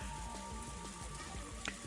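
Pouring rain from the visual novel game Higurashi When They Cry, a faint, steady patter of drops on a surface with scattered small splashes throughout.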